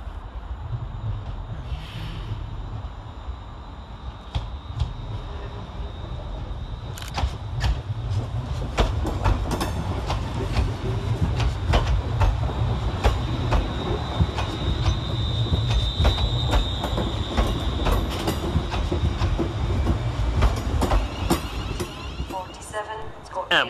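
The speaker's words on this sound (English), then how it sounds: "Next in to arrive, terminating with a ScotRail service off of Weems Bay, is" A ScotRail Class 380 electric train pulls into Glasgow Central station with a loud low rumble, rapid clattering wheel knocks and a high squeal of wheels on rails, steady throughout.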